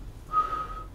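A single short whistled tone, fairly quiet and brief, held for about half a second over faint room noise.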